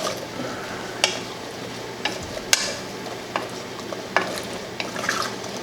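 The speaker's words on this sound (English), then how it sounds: "Stir occasionally until all the sugar dissolves, until these cranberries get nice and soft." Cranberries and sugar simmering on low heat in a pot, a soft steady bubbling sizzle with a spoon knocking against the pot in sharp clicks about once a second.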